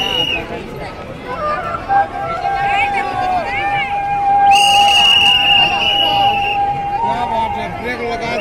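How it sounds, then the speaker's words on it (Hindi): A whistle blown at a crowded Durga Puja pandal in 2021 sounds in long shrill tones over loud crowd chatter, with people talking nearby. "एक बार सीटी मारी"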